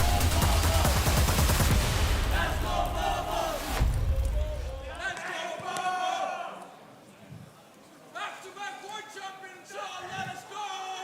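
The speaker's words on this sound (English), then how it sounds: "The crowd is getting very, very riley, and I love to hear it." Crowd at a Clash Royale League 2023 World Finals esports event roaring and cheering loudly at the start of a game, the noise swelling then settling into a steadier murmur with bursts of excited voices.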